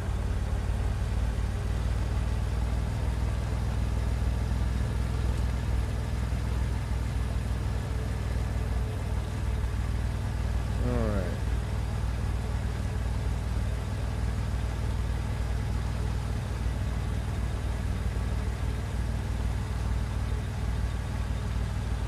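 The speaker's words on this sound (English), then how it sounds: "The engine ends up sounding a little weird" Car engine idling in the Under The Sand road trip survival game, a steady low rumble that holds unchanged for the whole stretch, with one brief rising whine partway through.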